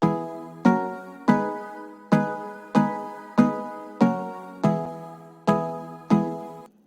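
Three layered synth sounds stack into one full chord, struck about ten times at an even pace, each hit opening with a punchy attack and then fading, close and clear with no voices.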